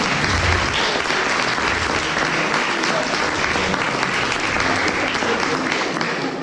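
Audience at a mentalism magic show breaking into loud, sustained applause, a dense wash of many hands clapping steadily throughout with a faint voice or two underneath.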